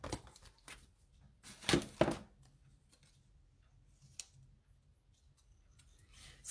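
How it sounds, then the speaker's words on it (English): A scoreboard tool scores a paper card for folding, producing faint scraping strokes and soft clicks with quiet pauses in a calm indoor room. "pull out my scoreboard here, and I'm just gonna score it"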